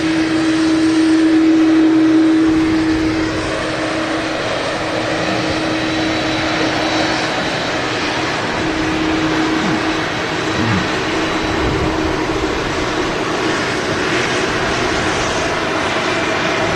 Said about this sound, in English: an Aer Lingus A330 taxiing out at the moment